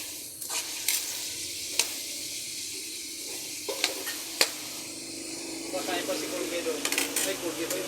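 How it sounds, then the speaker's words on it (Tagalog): Chapsoy being stirred in a frying pan at a street food stall, a soft steady sizzle broken by a few sharp clinks of a utensil against the pan, with a voice speaking over it. "halo lang natin siya ng halo"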